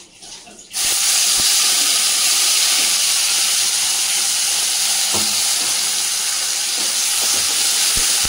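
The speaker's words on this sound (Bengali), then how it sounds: "এবার এর মধ্যে আমি দিয়ে দিলাম পেঁয়াজ বাটা" Onion paste hitting hot oil set off a sudden loud, dense hiss that stays strong and steady, with a few faint stirring knocks beneath it.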